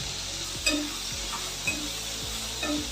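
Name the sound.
brinjal sautéing in a pan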